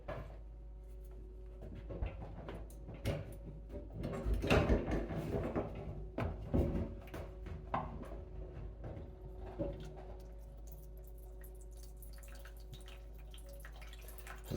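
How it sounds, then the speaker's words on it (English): Water trickles and drips from a freshly cut bathtub pipe during a tub and shower trim update, irregular close drips and small splashes with a few clunks, quiet and without talk. "And that's all the water just draining from this part up."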